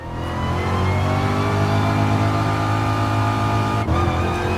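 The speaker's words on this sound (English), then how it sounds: "It's a super low rev engine." A car in Gran Turismo Sport with a low-revving engine topping out around 6500 RPM drones steadily and loudly, its rich harmonic hum holding nearly constant with a brief dip near the end.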